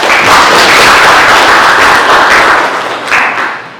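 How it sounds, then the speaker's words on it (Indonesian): A class of students in a dance lesson applauds together, loud close-up clapping filling the room, easing slightly near the end before a final burst. "Tepuk tangan untuk kita semua."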